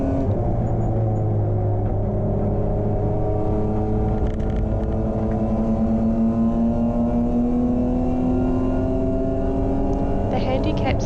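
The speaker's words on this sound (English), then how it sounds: "BMW hooked up nicely off the line, keeping me ahead of the Jag" BMW E36 race car racing at Hampton Downs in a sprint race, heard from on board as a loud, continuous engine drone climbing in pitch through the gears, with someone talking over it.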